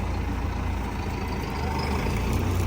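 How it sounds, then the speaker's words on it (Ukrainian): A Massey tractor pulling an UNLU plough through a field drones with a dense, steady low engine rumble under load, loud and unbroken throughout. "Аж трактору важко."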